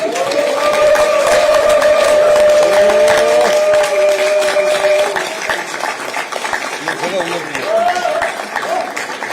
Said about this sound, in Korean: 장내에 계신 분들은 큰 박수로 환영해 주시기 바랍니다